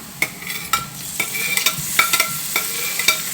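Vegetables for Jamaican callaloo cooking on very low heat in a pot, starting to caramelize; a quiet background sizzle broken by a series of sharp, close clicks and taps from utensils, with no talking.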